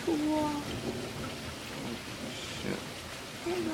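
An Ohio thunderstorm: steady rain patters on surfaces while low thunder rumbles and swells, heard from a sheltered spot at moderate distance, with faint voices briefly murmuring.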